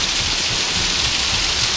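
Rain falls indoors inside a building in the horror video game Outlast, a dense, steady hiss of heavy downpour with no break and no voices.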